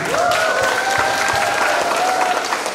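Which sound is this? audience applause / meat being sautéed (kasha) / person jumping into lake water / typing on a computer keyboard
audience applause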